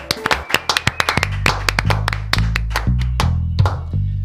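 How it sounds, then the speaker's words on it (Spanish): A studio audience welcomes a guest with clapping on a talk show, sharp, distinct hand claps in a quick, uneven rhythm, close and loud, over a low background hum. "recibimos con un fuerte aplauso a nuestro amigo Mex Urtivereda"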